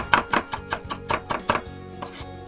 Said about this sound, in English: We're just going to sort of rough chop most of this up.